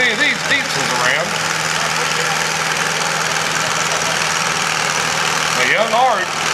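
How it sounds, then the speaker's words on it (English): A Ford 861 diesel tractor engine drones steadily at a tractor pull in Hugesville, Missouri, a loud continuous rumble with someone talking over it at the start and end. "Arthur Sims III on an 861 Ford diesel"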